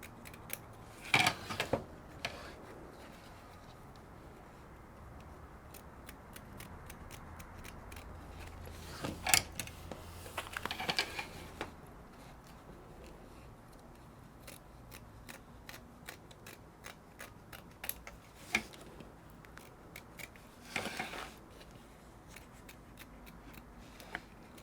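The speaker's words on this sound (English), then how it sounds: "we want to cut as close to the stitch line, right at it. We're going to go all the way around." Scissors snipping through fabric right along a stitch line around an in-the-hoop passport cover, sparse crisp cuts with occasional denser bursts of snipping, close by, over a quiet background with no talking.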